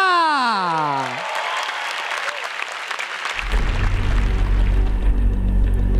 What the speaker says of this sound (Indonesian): Beri tepuk tangan untuk Indra.